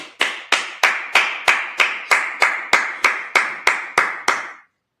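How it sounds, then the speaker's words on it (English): A congregation at a Sabbath service claps in unison, about a dozen sharp, evenly spaced claps at a steady quick beat that then stop abruptly, loud and close with no talking. "Clap it up."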